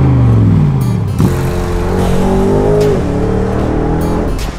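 A BMW M850i convertible's V8 revs loudly and close, its pitch climbing and falling through several throttle blips and gear changes with no talk over it.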